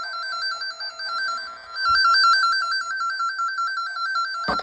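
Warbling electronic tone from a wire tracer wand probing for an RV's solar prep wire inside a Winnebago 2701RBS, a steady repeating two-pitch beep held close and loud, ending in a sharp click.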